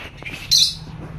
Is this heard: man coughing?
no